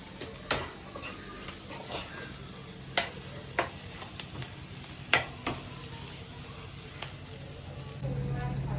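Shallots and garlic frying in a pan with chili powder, a steady close sizzle with occasional spoon scrapes and taps against the pan.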